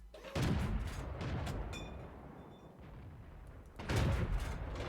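Tank cannon fire in World of Tanks, standard ammunition shots against the side of a T1: two loud, broad booms a few seconds apart, each trailing into a rumbling decay, with no speech.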